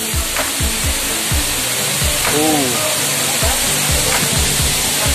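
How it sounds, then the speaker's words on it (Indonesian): Curug Cileat waterfall in Subang gives a steady, loud broadband roar of falling water, constant and close, while someone briefly speaks and other voices sound over it. "kita nyampe ke titik air terjun yang kedua"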